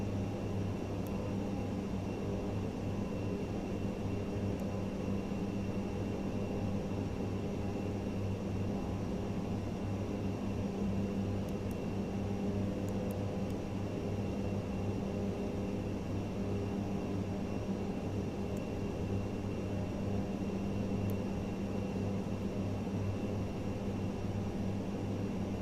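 Turboprop engines of an ATR 72-600 at cruise power in Microsoft Flight Simulator 2024, a constant, even drone with steady low harmonic hum, unbroken for the whole stretch.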